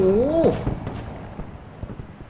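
A sharp explosion in Battlefield 2042 near the start, with a whooshing tone sweeping before it, then scattered smaller pops and rumbling debris fading out.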